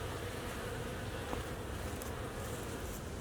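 Honey bees buzz continuously during a November beehive inspection in a New England garden, a dense, steady hum from many insects close by, with a faint tap partway through.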